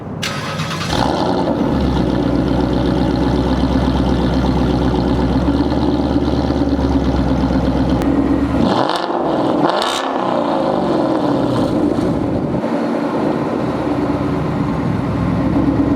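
A 2020 Ford Mustang 5.0 V8 with cat-back exhaust fires up and settles into a loud, deep idle, then revs sharply twice before dropping back to a steady rumbling exhaust.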